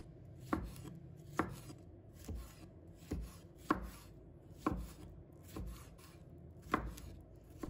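Knife chopping a vegetable into small pieces on a board, with the hard core already cut away; about eight evenly spaced, crisp close thuds of the blade and faint rubbing in between, with no voices.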